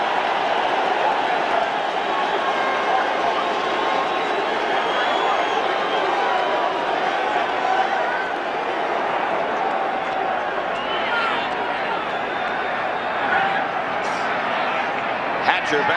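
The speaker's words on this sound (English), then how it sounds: "Listen to the applause for the Bear defense." Steady roar of a stadium crowd at the 1985 Rams-Bears NFC Championship football game, applause and cheering for the Bears defense, with a commentator talking over the continuous din.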